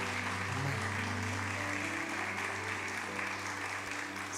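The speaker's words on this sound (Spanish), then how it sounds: "de un aplauso al Señor" A church congregation claps steadily through the clip, fairly faint and diffuse beneath a sustained low musical drone from the sanctuary.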